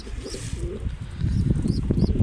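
Pigeons coo softly close by on a rooftop terrace, with a few thin bird chirps above them and some low rustling noise.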